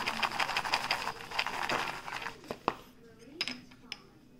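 A container of butter is shaken over movie-style popcorn, giving a quick run of light rattling, clinking taps that thin out into a few sharper knocks near the end.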